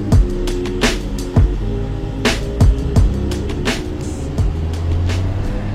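Mazda car driving on a road alongside a Range Rover, a steady low engine and tyre drone with repeated sharp knocks and clatters from inside the cabin.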